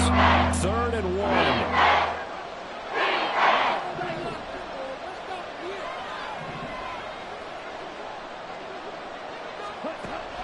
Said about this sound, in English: Big play here as the crowd noise rises.